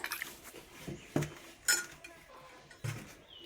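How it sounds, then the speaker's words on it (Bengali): Cooked pea dal served from a pot into a bowl, with sparse clinks and knocks of a metal spoon against dishes, close and intermittent. "এই যে মটরের ডাল মটরের ডাল রান্না করেছি বাটিতে তুলে নেব মটরের ডালটা"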